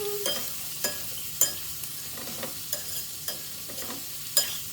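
Chopped onions frying in a pan for an onion sabji, with a continuous close sizzle broken by repeated scraping and tapping from a spoon stirring them at irregular intervals.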